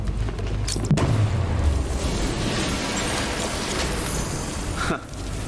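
A weapon cache detonates in Arkham Knight with a loud, deep boom near the one-second mark, then rumbling debris and sustained explosive noise that fades gradually, with a smaller thump just before five seconds.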